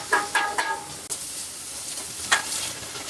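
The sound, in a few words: mustard seeds spluttering in hot oil while cooking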